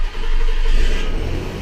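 A 1993 Mazda MX-6 engine cranks and catches after an electrical repair, settling into a steady, close idle with a low rumble that runs through the whole short stretch, and no one speaking over it.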